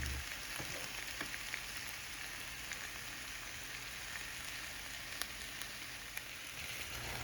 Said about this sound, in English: I'm going to let these fry up for about 5 minutes to get a good start on the saute